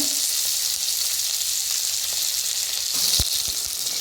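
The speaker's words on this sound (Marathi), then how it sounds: "बघा कांदा चांगला भाजलाय" Onion frying in oil in a wok, a bright, even sizzle close by throughout with a brief utensil knock near the end.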